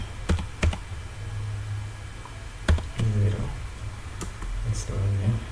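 Keys clatter on a computer keyboard while a username and password are entered at a login screen: a few sharp, separate clicks spaced through the stretch, fairly close and clear over a low steady hum.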